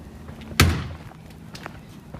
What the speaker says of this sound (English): you will hear my neighbour come out and bang her bin lid quite loudly